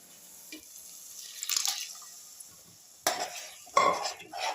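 Cooked lentil broth is poured into a pan and meets hot contents with a quiet sizzle and splashy gurgle, in two short bursts close by, with faint utensil clinks in between.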